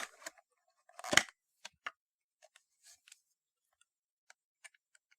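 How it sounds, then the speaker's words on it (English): Quiet handling of a cardboard box and plastic while unboxing a 1/500 scale Herpa Boeing 737-700 model plane: scattered small clicks, taps and rustles, with one louder thump, the sounds sparse against silence. "Let's get it out of the box."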